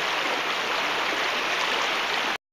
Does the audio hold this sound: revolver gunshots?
no